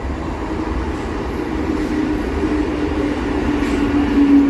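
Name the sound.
Chakra Rail train running past Kolkata dock yard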